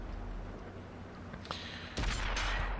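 Distant gunfire and artillery thuds in a tank battle video game, a low rumbling bed with a soft pop midway and a heavier burst of blasts near the end.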